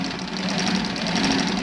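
A sewing machine hums steadily and close while stitching a folded fabric cuff, with a continuous rapid needle rhythm and no pauses or voices.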